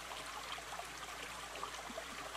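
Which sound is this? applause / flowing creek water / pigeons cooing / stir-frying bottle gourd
flowing creek water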